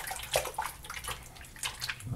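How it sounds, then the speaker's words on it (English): Tap water running steadily over hands at a bathroom sink during a wet shave, a continuous close splashing with small drips and no talking. "Rinse my hands real quick."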